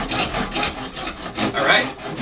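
Hand PVC saw cutting through Schedule 40 PVC plumbing pipe, a steady run of about nine rasping back-and-forth strokes, close and loud with no talk.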